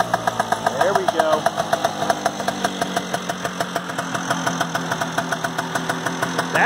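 A Vespa scooter engine, kick-started from cold without choke or throttle, idles with a steady rapid knocking putter close by, a brief rev near the start, and a voice speaking over it.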